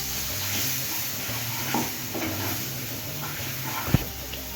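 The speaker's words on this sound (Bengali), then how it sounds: "এবার দিয়ে দেবো হলুদ, লঙ্কার গুঁড়ো, জিরের গুঁড়ো, ধনের গুঁড়ো, ভালো করে কষিয়ে নেব।" Turmeric, chili, cumin and coriander powders frying in a pan for a pea ghugni, a moderate steady sizzle with soft stirring and a sharp utensil knock near the end, close up and without speech.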